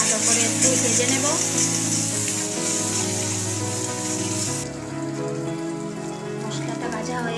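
Spice paste frying in a pan for a dried fish curry gives a continuous bright sizzle under a voice and soft background music, then drops sharply quieter partway through.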